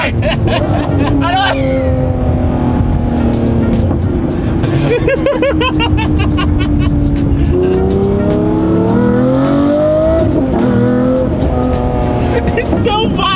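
A Lamborghini Murcielago engine revs hard while driving, rising and falling whines with tire noise, loud and close, while people talk excitedly over it.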